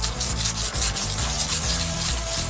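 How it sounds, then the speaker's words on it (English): Light sanding of cured resin with P100 sandpaper, a steady rhythmic rasp of strokes running through the whole stretch, close and fairly loud, with no talk. "So I'm just trying to basically lightly sand it."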